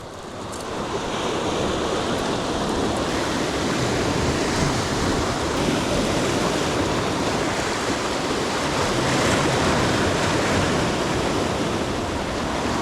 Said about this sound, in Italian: ci sono onde doppie un po' da sud e un po' da nord di maestrale